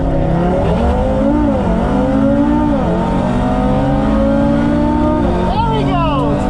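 Audi RS3 Stage 2 and a 2018 Porsche 911 Turbo S revving hard at a drag race launch, engines climbing and shifting through gears with loud, continuous roar, voices of onlookers shouting over it.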